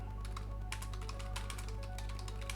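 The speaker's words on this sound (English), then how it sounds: "And that's my excellent typing." Rapid computer keyboard typing, a steady run of light clicks and taps heard close and alone, with no talk over it.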